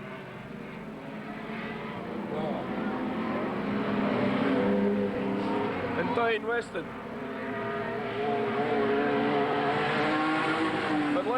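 Race cars roar past at Redline Raceway in 1993, a steady loud engine drone with rising and falling passes, under continuous excited commentary from an announcer.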